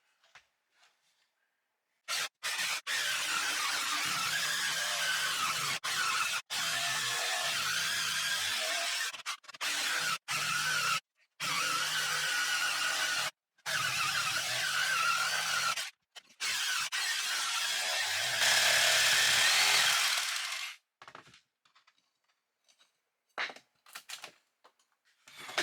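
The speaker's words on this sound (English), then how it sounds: "I got a big thickness to cut through here because I have 3/4 inch plywood down, 3/4 inch OSB down underneath" Power saw cutting through a thick subfloor of 3/4-inch plywood over 3/4-inch OSB, with repeated harsh buzzing cuts lasting a few seconds each, separated by short pauses and ending in near silence.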